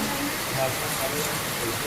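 Steady rain hisses continuously on a surface nearby, a dense even patter filling the short stretch.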